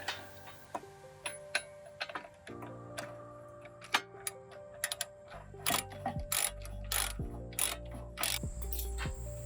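A ratchet with a deep socket clicks in irregular bursts while loosening 19mm brake caliper bolts on a Subaru WRX STI, close and crisp, with a louder, faster run of clicks toward the end.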